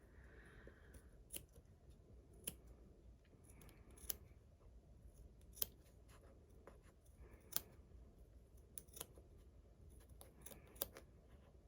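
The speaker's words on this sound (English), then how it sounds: "now comes the time when we start clipping into our gusset" Scissors snipping notches into a curved fabric gusset seam allowance, with sharp quiet close clips at irregular intervals over faint background, no talk.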